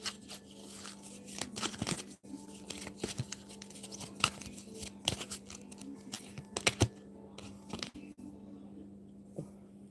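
A deck of cards is shuffled by hand, producing quiet, irregular flurries of crisp clicks, snaps and riffles close by, with short pauses between bursts and no talking.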